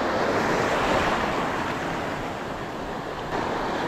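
Sea waves washing onto a shore in Palawan during shore casting for fish, a continuous close hiss of surf with wind noise, steady and loud with no voices.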